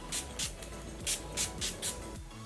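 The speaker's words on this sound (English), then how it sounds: "I'm just going to quickly set my face with the NYX Dewy Finish Setting" NYX Dewy Finish setting spray misted onto a face in six short, soft hisses, close and evenly paced over quiet room tone.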